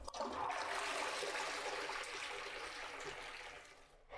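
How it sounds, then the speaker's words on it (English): A toilet flushes with a loud rushing surge of water that gradually tapers into trickling as the bowl drains, heard close with no voices. "and flushing the toilet."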